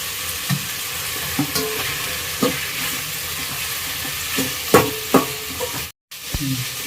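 Tomatoes sauté in a pan with a low sizzle beneath repeated spatula scrapes and knocks at an irregular rhythm, close by, with a brief dropout near the end.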